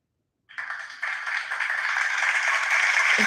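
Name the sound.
clapping sound effect played on stream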